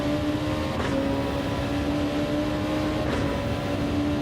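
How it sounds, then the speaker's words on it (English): Turbocharged race car in the Gran Turismo 7 driving game, a steady loud engine drone with whining tonal hum and occasional brief whooshes over the continuous roar. "Turbo noises."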